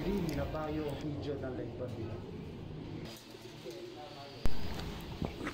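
Racing pigeons coo softly in a loft, a few low repeated calls mixed with faint chirps, heard under someone speaking close by.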